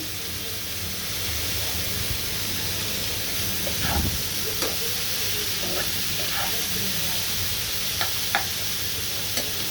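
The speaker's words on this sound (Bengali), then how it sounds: "এভাবে আমি করলাটা ভাজি করে নিব একদম মশমশা করে" Bitter gourd fries in a pan with a steady, dense sizzle and faint scattered clicks and scrapes of stirring, continuous and fairly loud with no clear speech over it.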